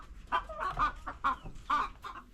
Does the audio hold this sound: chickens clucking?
yes